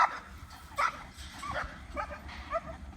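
An American Bulldog gives several short yips and barks, with whimpering between them, while herding chickens and a rooster on a farm, the bursts close and fairly loud over a quiet outdoor background.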